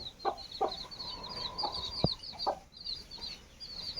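Hens cluck in short bursts close by, while small birds chirp steadily in the background.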